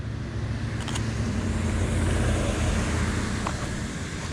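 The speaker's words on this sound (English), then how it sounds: "get this car out of the way" A car passes on a road on a foggy morning, its broadband tyre and engine rush swelling steadily and filling the scene before easing slightly toward the end.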